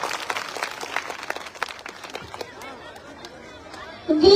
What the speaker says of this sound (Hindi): जोरदार तालियों से स्वागत कीजिएगा इस बालिका का।